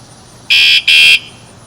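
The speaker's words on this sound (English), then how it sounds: "when you arm it, it lets you know that it's armed with that sound and that final tone" Bicycle alarm arming, two loud, steady high electronic beeps in quick succession, the second slightly longer, with no talk.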